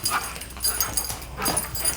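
A playful dog makes soft whimpering and whining sounds at close range, several short rising whines spread across about two seconds with no talk.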